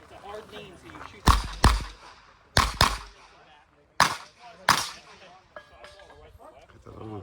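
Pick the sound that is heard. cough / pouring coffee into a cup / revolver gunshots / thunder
revolver gunshots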